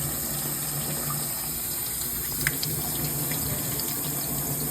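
Cloudy rinse water from washed rice drains steadily through a strainer into a kitchen sink, a continuous close hiss and trickle with faint splashes and no voices.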